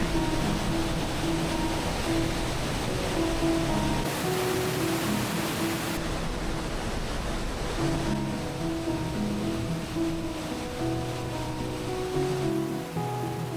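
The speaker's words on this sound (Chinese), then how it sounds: "水流万马奔腾，直冲向你" A dense, constant roar of rushing water from the Rhine Falls in Switzerland, heard from a viewing platform close to the falls, fills the whole clip, with soft tonal music layered faintly over it.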